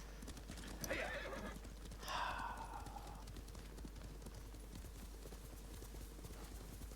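Hoofbeats clip-clop steadily in the video game Ghost of Tsushima while a horse lets out two loud whinnies near the start, then the hooves continue alone under faint background noise.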